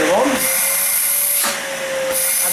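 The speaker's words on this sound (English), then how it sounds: "you can also do the test here by turning the vacuum cleaner on" A Numatic tub vacuum cleaner runs steadily up close with a loud whine and airy rush, its pitch briefly dipping and recovering as the suction changes.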